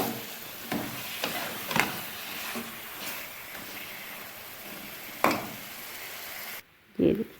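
Steady sizzle of drumstick (sohanjna) and meat curry frying in a pan, a continuous hiss with occasional louder pops and spatters, cut off briefly near the end by a short clatter.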